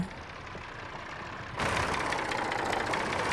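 Ford 7600 tractor engine in Farming Simulator 22 labours under the weight of a plough, a steady mid-pitched drone that swells suddenly louder and rougher partway through and holds there.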